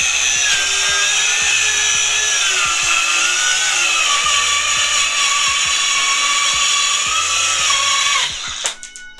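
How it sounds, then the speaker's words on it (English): A DeWalt DCS571 four-and-a-half-inch cordless circular saw rips through thick 3/4-inch MDF, a loud sustained high whine with a steady motor tone that holds for about eight seconds, then winds down abruptly at the end of the cut. "Let's do a cut real quick."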